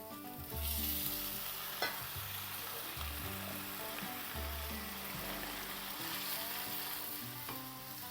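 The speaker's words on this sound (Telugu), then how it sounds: "కందిపప్పు వేసి ఒకసారి బాగా కలిపి" Soaked toor dal is stirred into a sizzling masala in a pan, a loud, continuous frying hiss with occasional utensil taps, while soft background music plays underneath.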